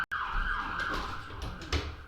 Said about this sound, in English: I think the sirens are a bit much.